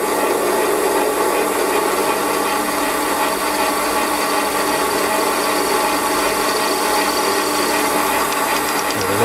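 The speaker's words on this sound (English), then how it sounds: "I'll just centre drill the end" Brass piece being centre drilled on a Warco lathe, a continuous close, loud grinding and rasping whir with no talk over it.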